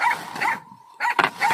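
A dog barks and yips in quick, close bursts at a rice-threshing scene in Lagonoy, Camarines Sur, with a short gap between barks and no talk over it.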